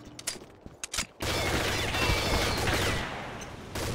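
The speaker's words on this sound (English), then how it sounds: "I was shooting at him." Rapid gunfire in a video game shooting match, with a few sharp clicks and shots followed by a dense, loud, continuous burst of automatic fire.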